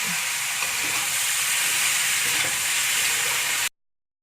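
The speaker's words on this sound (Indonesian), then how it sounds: "kita masukkan kentang dan petenya, lalu kita aduk rata ya bersama dengan sambal-sambalnya ini ya" Potatoes and petai stirred into sizzling sambal in a pan, a steady bright frying hiss with soft scraping stirs, close and continuous, stopping abruptly near the end.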